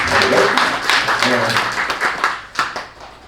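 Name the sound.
applause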